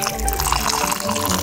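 Water pours steadily into a potion in a video game, a continuous close splashing, gurgling rush lasting just over a second.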